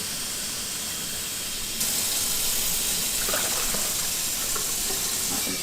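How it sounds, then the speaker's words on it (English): Water pours steadily from a tap into the tank of an ear wax removal machine, mixing with peroxide solution, a continuous hiss and gush that grows slightly louder partway through, with no talking. "So you've got 2 cups of the peroxide solution, then fill it up to 4"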